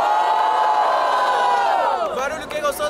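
Crowd at a Brazilian freestyle rap battle cheering and shouting loudly for rapper Maria, a dense sustained roar of voices that thins out toward the end.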